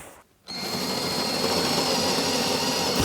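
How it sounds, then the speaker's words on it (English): After a brief quiet moment, a power drill whirs at high speed into a wall in one continuous, loud burst lasting a few seconds, then cuts off, while installing a squat rack. "And now we drill our holes."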